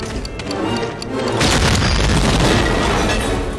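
A C4 charge detonates in the World War II shooter Medal of Honor: Allied Assault, a loud, sustained booming blast with rumbling low end, rising after a second out of busy battlefield noise and rolling on to the end.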